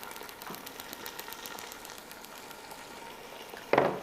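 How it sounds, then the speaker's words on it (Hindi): Chickpeas, ginger, garlic and onion fry in a pot on the stove with a soft, steady sizzle, fairly faint and continuous, with a short louder clatter just before the end. "अब थोड़ा सा चनों को, अदरक लहसुन को, प्याज को भूनते हैं"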